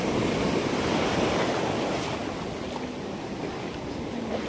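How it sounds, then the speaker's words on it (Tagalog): Big ocean waves crashing and rolling onto the shore, a continuous loud roar of surf mixed with wind buffeting the microphone, without any voices. "Malaki ng alon, oh."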